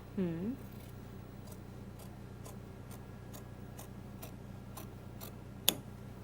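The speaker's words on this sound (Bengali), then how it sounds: "আপনারা দেখতে পাচ্ছেন এই যে রাউন্ডটা কেটে যাচ্ছে।" Scissors snip through fabric while cutting the round neckline of a six-panel kameez, a steady series of short, crisp cuts at an even rhythm, close by, with a brief sharper snap near the end and a voice sounding at the start.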